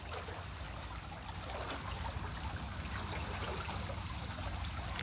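Seawater rushes steadily through an opened inlet into a mud crab pond, a continuous broad, hissing trickle and splash at a fairly low, even level with no one talking.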